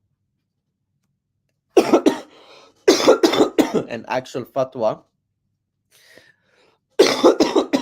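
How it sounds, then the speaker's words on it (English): A person speaking during a live Sunday question-and-answer stream breaks into a few sharp, close coughs, separate from their speech. "I'm recovering from a cough."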